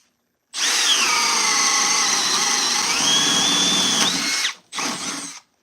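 An M-12 subcompact drill in speed 2 bores a half-inch bit through the workpiece in one sustained, loud whirring run of about four seconds, then a short second burst after a brief pause.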